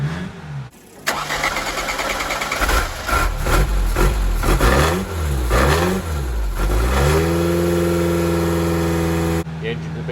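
A Ford Pinto engine fitted with a Ferrari 40 DFI5 twin-choke carburettor cranks, fires up and is blipped through several loud revs before settling into a steady, rising hold, close and dominant with a voice heard briefly.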